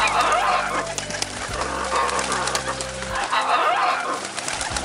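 A cartoon pigeon coos in soft, repeated low calls in a children's animated film, with background music and chirpy tones layered over them.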